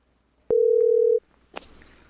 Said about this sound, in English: we are going to get Mr. Moore on the phone